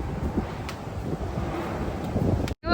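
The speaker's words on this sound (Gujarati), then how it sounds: "કેવો સરસ નો પવન આવે છે." Outdoor wind buffets the microphone in a continuous low rumble while people sit outside, ending with a brief cut and a burst of gusting.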